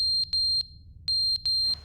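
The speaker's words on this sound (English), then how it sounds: "Is that the fire alarm?" A fire alarm in the video game The Stanley Parable beeps in loud, high, piercing bursts, a few quick pulses then a longer held tone, close and alone.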